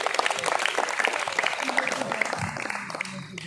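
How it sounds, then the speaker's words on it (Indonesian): An audience claps steadily for the presenters at an outdoor air-layering (mencangkok) tutorial, a dense patter of many hands that carries on for several seconds before thinning out, with a voice speaking faintly underneath. "Beri tepuk tangan kepada pemateri Bangsa Petualang."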